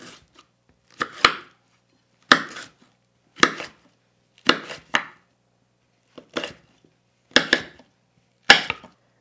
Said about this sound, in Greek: Κόβουμε και την πιπεριά.